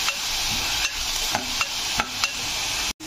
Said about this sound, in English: Green peas also fried nicely.